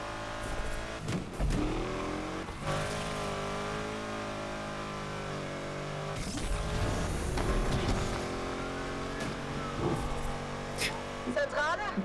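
A car in the NFS Unbound racing game drives hard, its engine holding a steady tonal drone with shifts in pitch and revs over twelve seconds while someone talks over it throughout.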